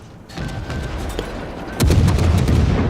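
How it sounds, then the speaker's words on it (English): Naval gun salvos thunder in a World of Warships battle, with a run of quick, close booms and a heavier crashing volley near the end over a rumbling background. "look how quick their salvos are peppering his Colorado"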